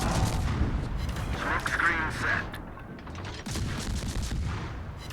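Main battery guns of the destroyer USS Farragut firing in World of Warships, a dense run of overlapping booms and cracks that stay loud throughout, with a brief dip and a fresh burst near the end.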